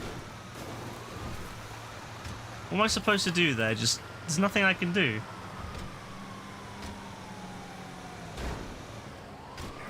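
Police car sirens in GTA Online, two short wailing, warbling bursts over background game noise while someone talks, then a faint single siren tone gliding downward afterward.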